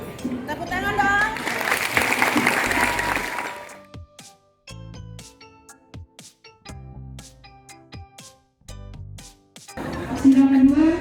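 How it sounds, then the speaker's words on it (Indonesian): Audience applause closes a school play session in which ninth-grade students reenact the BPUPKI assembly; dense clapping fills the first few seconds, then fades into quieter scattered sounds before voices speak at the end. "Tepuk tangan dong."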